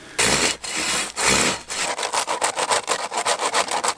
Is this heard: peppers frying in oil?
no